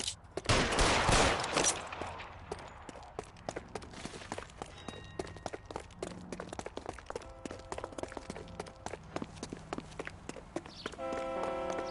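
Gunfire in the L.A. Noire video game: sharp shots scattered throughout, with a dense burst early on, mixed with clattering footstep-like thuds and other game effects.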